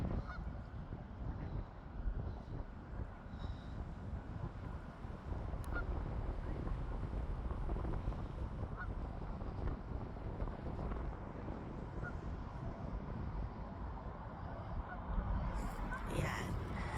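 Ducks honking and calling from a distance across a fish pond in Airdrie, Alberta, with steady wind noise buffeting the microphone throughout.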